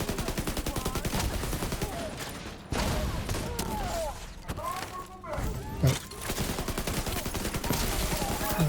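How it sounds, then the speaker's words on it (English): Rapid gunfire rattles in a video game as a turret is shot, dense bursts of automatic shots nearly continuous across the clip with a brief lull midway, while someone talks over it. "I'm just gonna shoot that turret to kill the rest"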